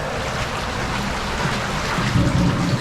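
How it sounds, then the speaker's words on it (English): Water trickling and splashing steadily into an underground culvert of a stream in Sheffield, a dense, continuous rushing that fills the enclosed space, loud and close. "There's quite a bit of water coming in."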